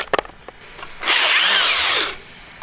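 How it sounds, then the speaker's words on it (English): A power drill bores into pine wood, a loud whining burst of about a second after a few soft knocks, then stopping abruptly. "when the neighbors hear me over here with this drill"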